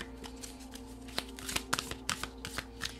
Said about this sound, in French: Vous tirez une seconde carte.